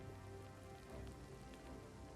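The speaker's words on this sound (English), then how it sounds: "probably it's raining" Rain in the strategy video game Total War: Three Kingdoms makes a faint, even patter and hiss that continues steadily, with no voices.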